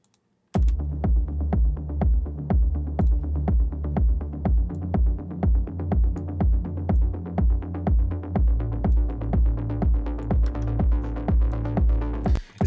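Layered techno bass synths, a driving bass on top and a chorus bass underneath, pound out a steady, heavy rhythmic pulse with dense low end, loud and continuous with no talking.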